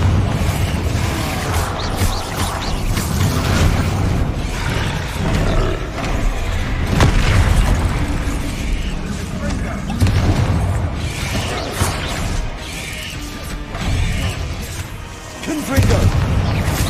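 Repeated Confringo fire-spell blasts in Hogwarts Legacy, loud booming explosions one after another over rolling roar and crashing debris, with a player's voice talking over the combat.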